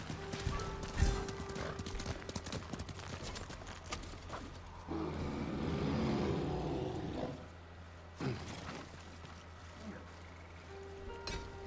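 Horse hooves clip-clopping in the Ghost of Tsushima video game, a steady trotting rhythm with a brief whinny, mixed with game ambience and other effects.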